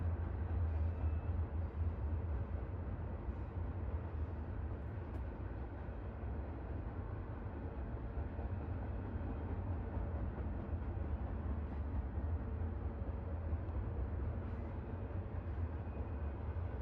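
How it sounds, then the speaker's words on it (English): A steady, low rumbling train drone with a broad rushing hiss holds evenly throughout, with no distinct clacks or horn standing out. "I'm afraid the train noises have put everyone to sleep."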